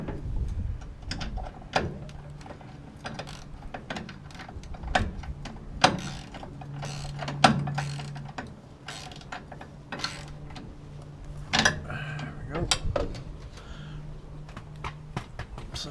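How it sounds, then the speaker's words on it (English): Ratchet tightening a bolt on a light pod bracket gives a series of irregular, faint clicking strokes with short pauses between bursts, close up and quiet with no talk. "then your ratchet right here to tighten the bolt down"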